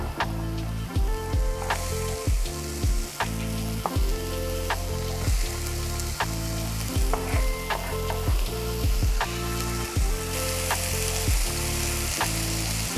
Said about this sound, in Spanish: empezar a dorar el apio, la zanahoria y la cebollita. Buscamos ese sonidito desde el principio.